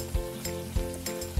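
Spices, including chili and two spoons of coriander powder, are stirred into potato curry frying in a pan. Steady close sizzling is broken by a few louder scraping strokes at regular intervals, with no talking.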